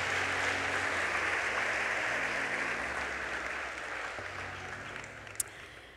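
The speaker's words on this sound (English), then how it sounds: "Won't you give the Lord a hand clap of praise as you take your seats?" A church congregation claps in praise as people take their seats after a sermon. The applause is broad and steady, then slowly thins and fades, with one sharp single clap near the end.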